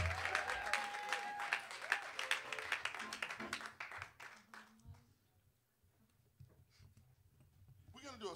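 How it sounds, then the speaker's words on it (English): Audience applause for Jamie on guitar at an ensemble performance, a fairly faint burst of clapping mixed with talk that dies away midway, leaving near silence before a few scattered sounds return. "Let's give Jamie a round of applause on guitar."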